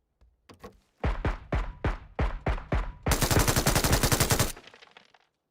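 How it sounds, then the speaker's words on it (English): Gunfire in the video game PUBG: a sequence of seven heavy single shots followed by a rapid sustained automatic burst, loud and close, trailing off with a few faint clicks. "Where was he shooting?"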